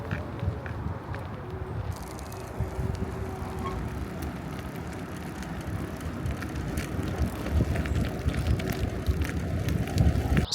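Bicycle ride outdoors with heavy wind buffeting the microphone, a continuous rumbling roar of tires and rushing air that grows slightly louder toward the end.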